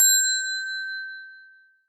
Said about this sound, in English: let's get the bell